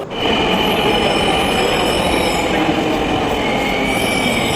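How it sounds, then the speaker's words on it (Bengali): A metro train runs with a loud, steady roar, and rails and wheels give a sustained high whine over the whole span. "এই তো কাট পাঞ্চ করে আমরা চলে যাচ্ছি মেট্রোতে উঠবো"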